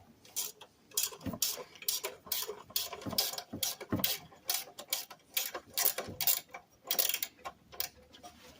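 Ratchet working bolts loose on an EZ-GO golf cart engine: a close, quiet series of crisp metallic clicks in short irregular runs, with faint shuffling between them.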